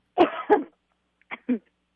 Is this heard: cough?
yes